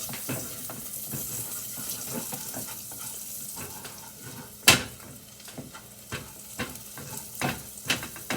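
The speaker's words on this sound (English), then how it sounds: "That's a hearty sizzle." Food sizzling in a pan while stuffed cabbage is cooked with sage and thyme, a steady hiss broken by sharp clinks and scraping stir sounds, close and clear with no talk.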